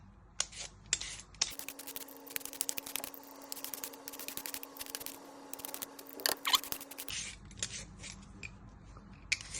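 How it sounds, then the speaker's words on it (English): A knife chops a potato into little cubes on a board with rapid, irregular close taps and crisp cuts, a steady flurry of knocks and scraping, with no speech. "Then you're going to dice this into little cubes."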